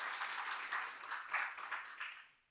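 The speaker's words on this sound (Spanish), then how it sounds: "Denle un aplauso a Él en esta hora" Church congregation applauding during a Spanish-language sermon, a soft, steady wash of many hands that fades out near the end, fairly distant.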